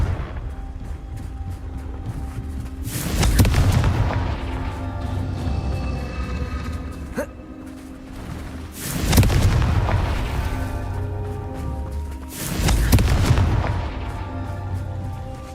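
Confringo blasting spells go off in the Hogwarts Legacy video game: three loud, booming explosions spaced several seconds apart, each with a deep rumbling tail, over a steady background hum.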